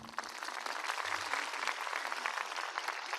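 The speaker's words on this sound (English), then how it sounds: "Round of applause, everyone." Steady audience applause at a university distinguished speaker lecture, a dense continuous wash of many hands clapping with no voices over it.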